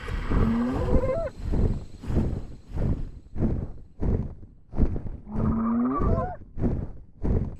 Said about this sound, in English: He does sound like a cow with laryngitis.